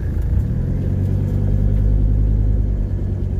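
A Mercedes-Benz 300TD's OM617 turbo diesel with an aftermarket pipe and intake rumbles steadily at low pitch, close and loud, on a closed private road in Mexico.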